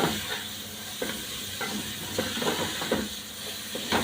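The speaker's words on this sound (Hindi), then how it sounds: "इनको फ्राई करेंगे।" Rice and vegetables with soy sauce and spices frying in a hot pan for mushroom vegetable Chinese rice, a steady close sizzle broken by several scraping stirs, with no talk.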